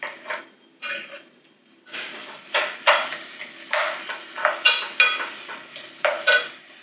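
Dried pollack stir-fried with pepper in a pot, a utensil scraping and knocking against the pot in repeated sharp strokes, close and fairly loud, with quiet gaps between clusters of stirring.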